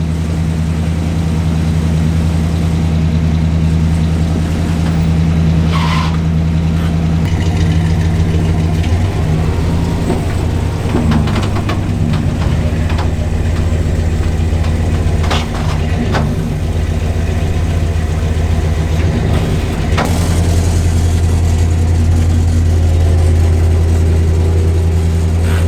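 A Nissan 350Z engine runs for a long stretch, a steady low idle rumble with occasional light revs, loud and close with no talk.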